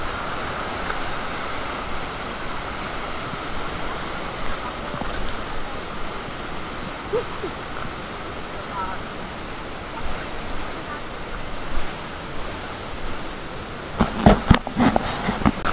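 Tinipak River water rushes in a steady, broadband wash that fills the whole scene, close and continuous, with a few splashy knocks near the end.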